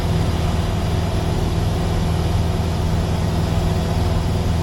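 A training aircraft's engine running before takeoff, a loud, continuous droning rumble heard steadily from inside the cockpit.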